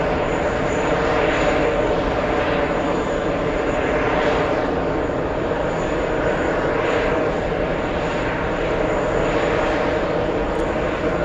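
A JetBlue Airbus A321 XLR takes off at JFK, its engines giving a loud, steady roar that holds evenly throughout with a broad wash of noise and a faint high whine.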